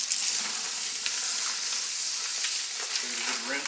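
Soapy water with dishwashing detergent pours out of a cheap waterproof dry bag, giving a steady close splashing rush with a hissy texture and brief gurgles near the end.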